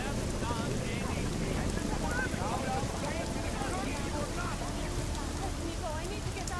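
Steady rain falls in the video game Deus Ex: Mankind Divided, a dense continuous hiss under muffled background voices and chatter throughout.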